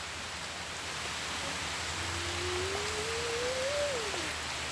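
Rain falls steadily beside a large canal during shellfish gathering, a broad even hiss, with a faint rising whistle-like tone in the last two seconds.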